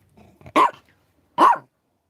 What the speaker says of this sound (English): Don't you bark at me.